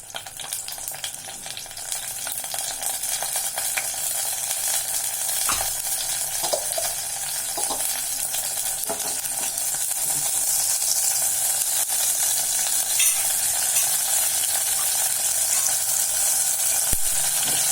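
Banana payasam stirred in a pan with a wooden spoon, a continuous close sizzle and bubbling with occasional scrapes and knocks, no talking.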